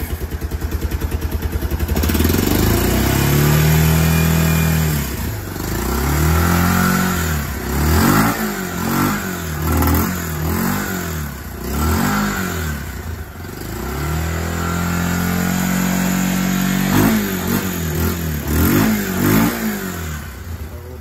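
Kawasaki KLF Bayou 300 ATV engine running on choke while suffering from backfiring and rough, lumpy running, revving repeatedly in loud uneven surges, then dropping to an idle before revving again, close by and indoors.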